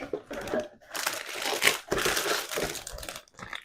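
Close crinkling and crushing of plastic bags holding model kit sprues for a Zvezda 1/48 KA-52 Alligator helicopter, continuous rustling with a few sharper crackles.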